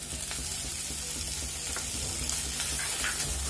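Potato and paneer filling fries in a pan, giving a continuous close sizzle and crackle with light stirring scrapes throughout.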